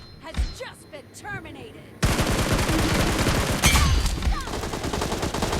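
Rapid automatic gunfire in a BGMI battle-royale match, dense bursts of shots filling most of the clip after a quieter start with faint talk.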